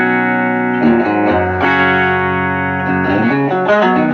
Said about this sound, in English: the top cab is the clean cab